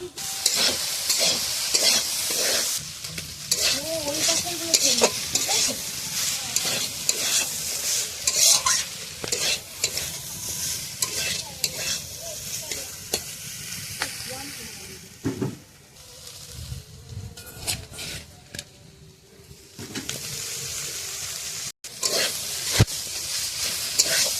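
Prawns fry and sizzle in a pan over a wood-fired clay stove, a steady broadband hiss with repeated scraping stir strokes close by, continuous for the whole stretch with no talking.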